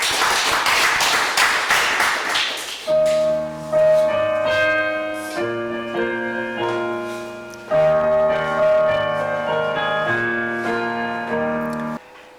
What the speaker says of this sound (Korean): 우리 영광의 박수 드립니다